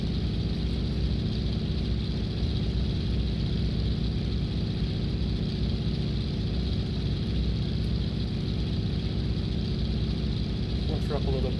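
A de Havilland Beaver's radial engine drones steadily at takeoff power in X-Plane 10, a loud, continuous low rumble with no breaks.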